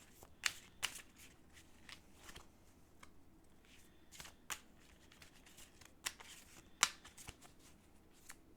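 Oracle cards from a Metatron deck being shuffled by hand, soft papery riffles and flicks with scattered sharper snaps of cards spread over several seconds, close and fairly quiet, without talk.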